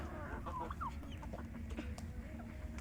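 A large turkey hen clucks nearby in a few short, throaty bursts over a low, steady farmyard background, no clear speech.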